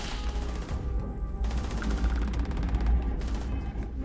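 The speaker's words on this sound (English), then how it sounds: "Who is shooting me?" Rapid gunfire bursts from a firefight at a ransacked research outpost in the space game Starfield, dense and loud over a low rumble, with mechanical clanks and ratcheting weapon noises between shots.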